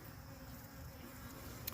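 Honeybees hum at an open hive during the fall goldenrod nectar flow, a faint steady buzz of many wings filling the background with no talk.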